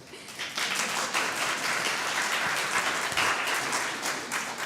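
A worship congregation applauding the lit chalice at a Sunday service, steady dense clapping from many people that swells quickly after a brief start and holds evenly before easing slightly at the end.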